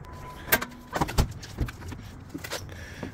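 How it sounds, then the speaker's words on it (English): Hood of a 1998 Jeep Grand Cherokee 5.9 Limited with a 360 V8 being popped open: a few sharp metallic clunks and latch clicks in quick succession, then a softer thump, close by, with no talking. "Let's pop the hood."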